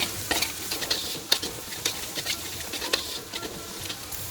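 Chili flakes and onions stir-fried in a pan for amatriciana pasta: a close crackling sizzle under quick, irregular scraping strokes of a utensil, several sharp clicks along the way, and no voices.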